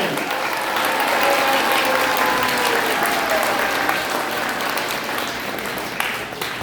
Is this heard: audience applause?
yes